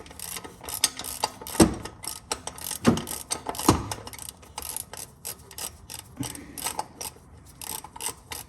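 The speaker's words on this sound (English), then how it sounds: "take your tool with the wrench attached to it, and you're going to want to loosen up the housing until the thing comes off" A ratchet wrench on a tool loosens the oil filter housing of a Toyota RAV4, giving steady rapid clicking with a few heavier knocks, close and moderately loud.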